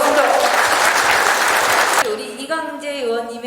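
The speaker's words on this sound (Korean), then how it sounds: "우리 이강재 의원님의 멋진 강의 다시 한번 힘찬 박수 부탁드리겠습니다" An audience at a presidential hopeful's meeting applauds loudly after a speech, a dense burst of clapping lasting about two seconds. A voice then speaks over a quieter room.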